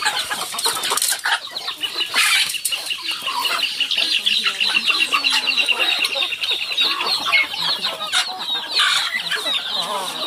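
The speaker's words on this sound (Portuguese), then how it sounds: "Tanto de galinha, né, vovó?" A flock of chickens clucking steadily and loudly on a rural farm, with overlapping calls and squawks close by filling the whole stretch, no clear talk.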